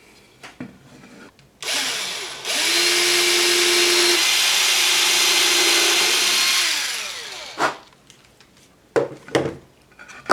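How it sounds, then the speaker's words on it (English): A power drill whines steadily for several seconds as it bores pilot holes into a wooden sign, with brief handling clatter before and after. "Now I'm going to drill 2 pilot holes that match those holes under here."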